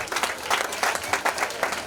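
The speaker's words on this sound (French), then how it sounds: "Veuillez applaudir pour lui," Audience applause at a school excellence ceremony in Nkongsamba, honoring a student: steady, dense clapping from a gathered crowd, fairly loud and continuous for about two seconds with no speech over it.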